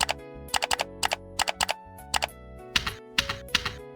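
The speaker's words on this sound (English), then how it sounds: "I've also tried to give different sounds to different keyboard inputs." Crisp keyboard clicks and tones in quick clustered bursts, each keypress triggering a short synthetic sound effect from a VTuber model setup in VTube Studio, with small pauses between groups.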